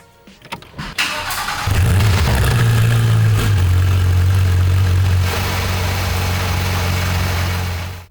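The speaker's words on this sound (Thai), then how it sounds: "เดี๋ยวนัชชาจะสตาร์ทรถให้ฟังนะคะ ว่าเสียงจะเล้าใจดุดันมากแค่ไหน" A Porsche 911 GT3 RS cranks and fires up close by with a loud bark and a brief rev, then settles into a deep, steady idle that drops slightly and holds until the end.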